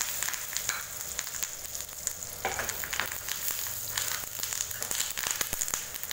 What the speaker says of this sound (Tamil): வெந்தயம் எல்லாமே நல்லா பொரிஞ்சிருச்சு.